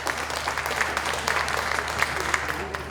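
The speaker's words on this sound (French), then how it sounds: "Sébastien Maillard, je vous demande de l'applaudir." An audience at a conference applauds Sébastien Maillard, a dense, sustained round of clapping from many hands in a large room, steady from start to finish.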